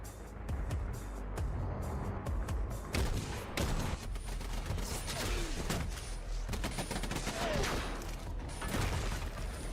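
Dense battle gunfire in a Fallout fan film sandstorm fight, with sustained rapid volleys, sharp cracks and heavy rumble layered together throughout, loud and continuous and with no clear speech.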